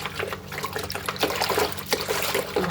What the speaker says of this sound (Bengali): আগে প্রথমত ঠান্ডা পানি দিয়ে ধুবেন মাছ